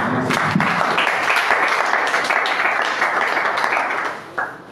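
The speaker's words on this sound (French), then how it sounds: "Est-ce qu'on peut accompagner Mike des applaudissements?" Youth audience in Bipemba applauds speaker Mike Kasongo with steady, dense clapping that holds strong throughout before thinning and fading near the end.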